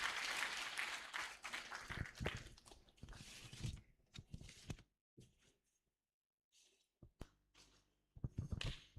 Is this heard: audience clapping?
yes